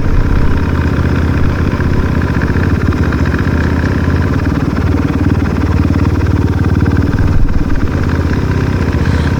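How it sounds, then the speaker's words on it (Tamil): A motorcycle engine runs steadily and loudly up close in a packed parking area on the misty Nandi Hills route, a continuous low idle-like rumble with faint clatter as a rider takes the bike out. "லாஸ்ட்டு ஒருத்தர் பைக் எடுக்கிறாரு"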